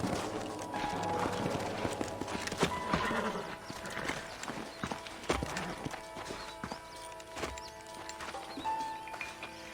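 Horse hooves clip-clop in Red Dead Redemption on Nintendo Switch, an uneven series of sharp hoof strikes at moderate distance over a low outdoor ambience, with occasional louder thuds and no speech.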